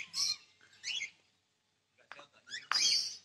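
Shrill, squeaky cockatiel calls come in several bursts with a pause in between, loud and close, ending in a harsh screech.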